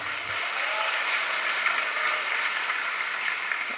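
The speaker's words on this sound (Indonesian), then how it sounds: "Tepuk tangan untuk kita semua." Graduation ceremony audience at UNTAG giving steady, dense applause that fills the hall evenly from start to finish, with no voices over it.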